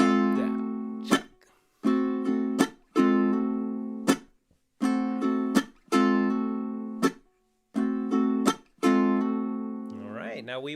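Ukulele strummed in a rhythmic down-up pattern, bright chords broken by sharp percussive chucks where the strings are muted, with a sliding chord change at the end; close and clear, no talking.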